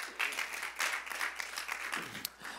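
Church congregation clapping during a Sunday morning service, a steady patter of hands in a room, fairly faint and uneven as only part of the crowd joins in, with no talk over it.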